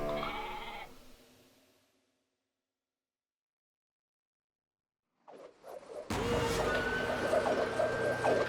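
Sheep bleats from the video game Okami HD, a short bleating call at the start that fades to silence, followed by busy game sound effects and music.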